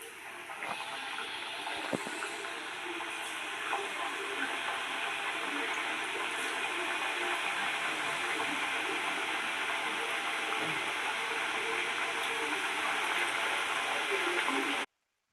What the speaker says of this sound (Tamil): இப்போ நம்ம எண்ணெயில் போட்டு பொரிச்சு எடுக்க போகிறோம்